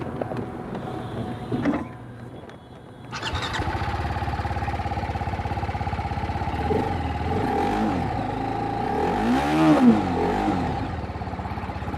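A 2025 TVS Apache RR310 motorcycle engine starts after a short crank, then runs steadily at idle with a few blips of throttle, close and loud.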